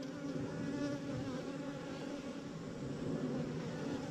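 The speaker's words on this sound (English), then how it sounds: "there's lots of bees here" A dense, steady drone of honeybees buzzing around an open hive during an inspection in Texas, close and continuous with no pauses.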